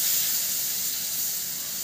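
Spice paste of cumin, salt, turmeric and chilli sizzles in hot oil as a loud, steady hiss close by, with no voices over it.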